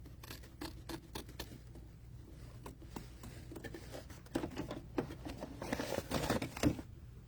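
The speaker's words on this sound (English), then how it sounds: "now we're going to trim the excess" Scissors snipping away excess fabric and stabilizer on an in-the-hoop embroidery project, a run of quick close crisp cuts and rustles, fairly faint.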